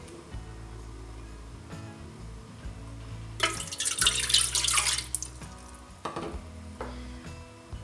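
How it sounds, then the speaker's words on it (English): Room-temperature water pours into a bread maker pan in a home kitchen, a short splashing burst after a few quiet clinks and knocks, close and clear with no talk. "we're gonna add room temperature water"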